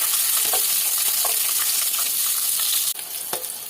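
Peppers frying in a pan for a yaprak döner recipe, a steady bright sizzle with soft popping and spattering, close and alone, with a sharper clatter near the end.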